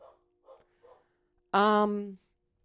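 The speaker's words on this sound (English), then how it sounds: "Marshall, don't bark" A dog lets out one loud, close bark-like yelp lasting about half a second, heard alone after a few soft, brief sounds.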